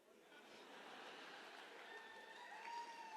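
Audience applause at a network marketing training session, a steady broadband clatter of clapping that holds fairly even across the clip with some faint voices underneath.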